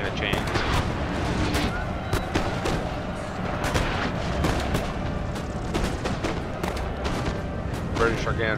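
Dense musket volleys and cannon fire crackle through a Napoleon Total War battle, with sharp shots popping irregularly over a constant roar of distant gunfire and a low rumble.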